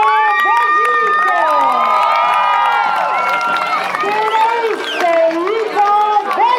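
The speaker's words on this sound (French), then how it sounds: "je vous demande un tonnerre d'applaudissements pour nos piouis" A crowd at a rodeo cheers and claps for young riders under thirteen, with children shouting and whooping over a loud, steady roar and a voice talking over it.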